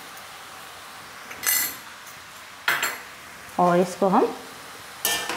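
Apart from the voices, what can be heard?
mixing veg chowmein in pan with spoon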